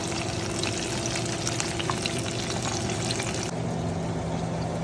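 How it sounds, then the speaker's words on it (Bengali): Chicken pakora batter frying in hot oil, a steady dense crackle and hiss that runs without a break, close by, with a slight drop in intensity near the end. "চিকেন পকোড়া ভাজা হচ্ছে"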